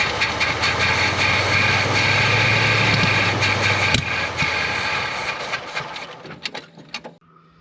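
A 1968 Oldsmobile Cutlass engine runs at idle after its choke is used, a loud, close, rough rumble with hissing that holds steady, then sputters and fades out into scattered clicks near the end.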